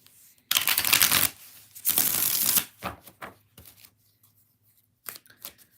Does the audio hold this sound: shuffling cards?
yes